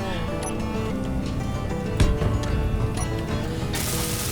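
Landing gear being welded in the game Space Engineers, a steady mechanical ratcheting whir that runs the whole time with a sharper burst midway, heard alongside continuous background game sounds.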